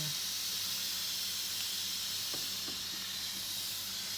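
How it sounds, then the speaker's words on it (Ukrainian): Buckwheat boils in a pot on a home stove, making a steady soft steamy hiss with a few faint bubbling pops, close and quiet. "Гречка в нас кипить."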